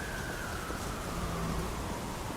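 Steady rain ambience in the life-simulation video game Big Ambitions, a continuous even hiss of rainfall with a faint low rumble underneath, no talk over it.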